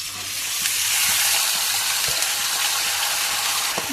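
Vegetables frying in a hot pan with bay leaf and onion give off a loud, continuous hissing sizzle, close and steady throughout, with a few faint utensil taps and no voices.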